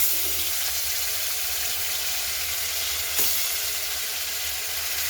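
Onions fry in a pan with bay leaf and dried chilli for an egg and spinach curry, giving a steady, close, loud sizzle that stays even throughout with one brief crackle and no talking.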